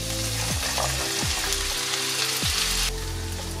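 Lupin sizzles as it sautés in butter with shallots and garlic, a loud steady fry with a few clunks of stirring, and no one talking.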